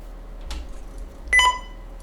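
A short electronic startup beep from an NEC PC-9821 computer rings out clearly after a faint click, over a quiet low hum; nothing else follows.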